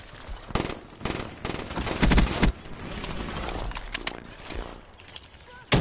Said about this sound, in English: use rapid fire on that mate because my trigger finger is too slow